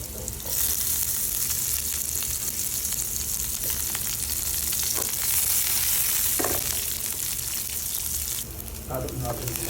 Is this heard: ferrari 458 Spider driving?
no